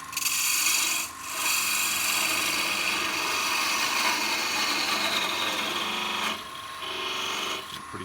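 A bowl gouge cuts a wooden acorn spinning on a lathe, a steady close rasping hiss that breaks off briefly near the start and again toward the end before resuming.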